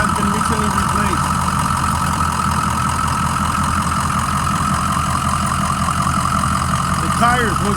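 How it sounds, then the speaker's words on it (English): The engine of a 2006 Ford E-450 Blue Bird Handy Bus runs at a steady idle, a loud continuous low rumble with a constant hum and no change in pace from start to end. "Motor sounds good. I'll show you."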